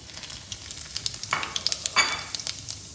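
Whole spices tempering in hot mustard oil: cardamom, dried red chili, bay leaf, cinnamon and white cumin crackle with quick pops and bursts of spitting sizzle, close and fairly loud.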